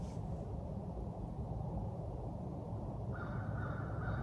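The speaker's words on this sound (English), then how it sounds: "You can hear all these birds out here in the background." Outdoor ambience with a low steady rumble; a crow caws once at the start, and a few bird calls rise near the end.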